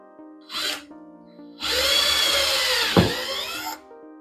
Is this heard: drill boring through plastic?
yes